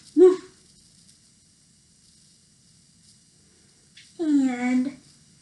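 During a children's movement and yoga session, a voice imitates a dog barking: one short woof, a long quiet pause, then a longer drawn-out bark, close and clear.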